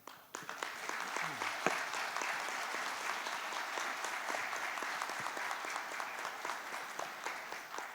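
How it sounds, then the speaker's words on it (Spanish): Audience applause at a regional nursing conference, a steady sustained wash of many hands clapping for about eight seconds at moderate level, with no voices over it. "este aplauso es para ustedes"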